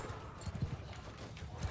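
Horse hooves in Mount & Blade II: Bannerlord, a quick series of soft clip-clop footfalls at a trotting rhythm, fairly close and moderately quiet, lasting under two seconds.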